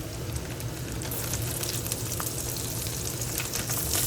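Chopped onions sizzling in a hot pan, a steady, close crackle of frying that holds evenly throughout with no talking.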